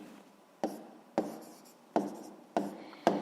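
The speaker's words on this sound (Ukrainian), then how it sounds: "Пишемо відповідь." A pen writes an answer by hand on paper in a maths exercise, five sharp taps each followed by brief scratchy strokes, close and fairly quiet with no voices.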